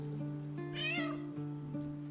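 A cat meows once, loud and close, in Baldur's Gate 3, above a steady droning hum of game music.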